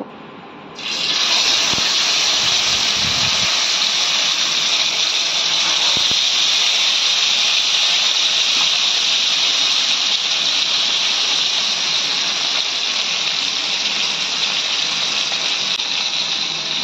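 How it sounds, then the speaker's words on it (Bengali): Pomfret fish frying in hot white oil on a tawa: a loud, continuous hiss of sizzling oil bursts in after a brief quiet start and holds steady and close to the end. "তো এবার তেলটা গরম হয়ে গেলে এর মধ্যে মাছগুলো আমি ফ্রাই করে নেব।"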